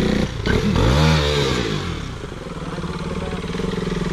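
A Bajaj Pulsar NS 200 motorcycle engine revs hard and close, rising then settling into a steady throbbing idle-like drone outdoors on a rough road.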